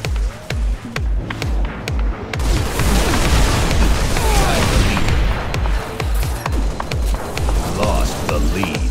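Concussion Rifle shots in Halo Reach boom again and again in quick succession over a dense, continuous rumble of game battle noise, loud throughout.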